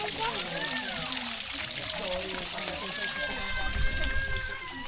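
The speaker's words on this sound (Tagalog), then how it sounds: "Tatapon lang tubig." Water thrown out and sloshing at a family reunion, a running trickle and splash that swells near the end while people talk over it.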